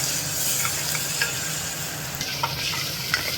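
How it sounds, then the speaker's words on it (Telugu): A steady sizzle of ginger garlic paste frying in a hot pan, with occasional soft scrapes of stirring. "దీనిలో 1 టేబుల్ స్పూన్ అల్లం వెల్లుల్లి పేస్ట్ వేసి ఫ్రై చేసుకోవాలి"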